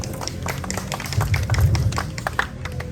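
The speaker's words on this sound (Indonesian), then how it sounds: "Tepuk tangan buat Daniel." Scattered clapping from a small audience at a bonsai demonstration, with thumps and taps mixed into a busy room background.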